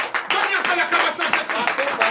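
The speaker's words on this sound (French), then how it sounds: "Veuillez vous lever, donnez l'acclamation à Jésus." Church congregation at a morning prayer service in Benin applauding for Jesus, dense continuous clapping up close mixed with voices and cheering throughout.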